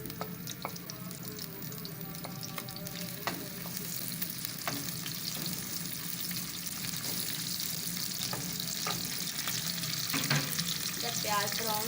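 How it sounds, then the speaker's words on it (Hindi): Chopped onions go into hot oil for a chicken korma, giving a steady, dense sizzle and frying hiss throughout with occasional clinks and stirring scrapes, close and fairly loud with no talking. "आयल गर्म हो गया और मैं प्याज डालने लगी"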